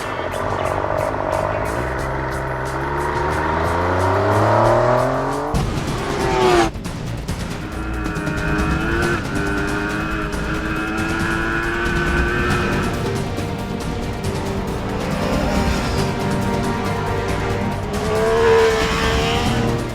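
MV Agusta F3 supersport motorcycle engine starting and revving, then riding off with rising and falling engine pitch through gear changes, loud and close throughout.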